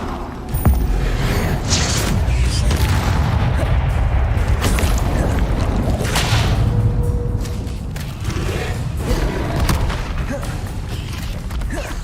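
Spellcasting combat in Hogwarts Legacy, including the Levioso levitation spell, sounds as a dense, continuous wash of magical whooshes, booms and thuds that stays loud and unbroken throughout.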